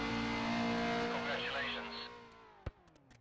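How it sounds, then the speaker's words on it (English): A race car in the driving game Race Pro spins out, its engine droning loudly with a sustained whining tone that fades as it slows, ending in a sharp knock and a few faint clicks. "And yep, the car spins around"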